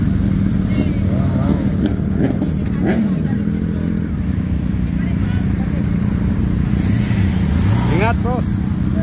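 A mixed group of motorcycles, including BMW GS and R1200 bikes and a sports bike, rumbles steadily nearby on a road by a gas station, with engines rising and falling while people talk over them.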